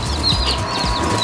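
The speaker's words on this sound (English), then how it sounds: "These are chickens from a hatchery." High, thin chirps from young hatchery chicks repeat in quick bursts over a low background murmur of other birds nearby.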